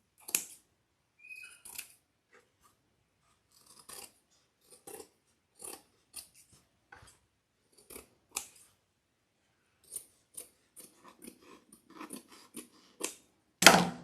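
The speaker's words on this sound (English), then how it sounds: "So we just trim off this excess." Scissors snip off excess material on a no-sew wreath attachment, with quiet, close cuts coming one by one and in small clusters, separated by silences, and one louder rustle at the very end.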